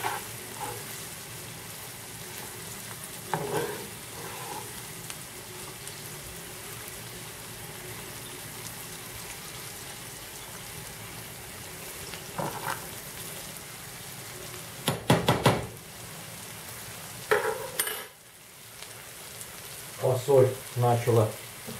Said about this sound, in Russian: И сейчас прожариваем хорошенько фасоль. Тоже делаю на большом огне. И поэтому постоянно помешиваю.